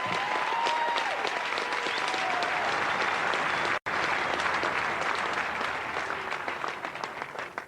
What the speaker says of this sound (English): I'd like another round of applause for these two guys